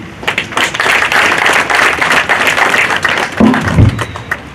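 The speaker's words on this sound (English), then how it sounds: "could we have a round of applause to our CS, please?" Dense, steady applause from an audience at the launch of a regional Karibu business support centre in Bungoma, Kenya, honouring a Cabinet Secretary, with many hands clapping continuously throughout and a couple of low thumps near the end.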